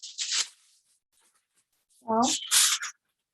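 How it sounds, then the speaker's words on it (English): Aluminum foil crumpled by hand into a C shape, giving brief crinkly rustling bursts at the start and again near the end, with a short spoken word in between. "I'm going to take it and I'm going to try to crumple it into like that C shape"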